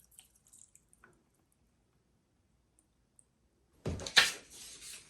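A container is rinsed under a tap. A few faint drips and clicks come over near silence, then a short, fairly loud gush of running water splashes near the end.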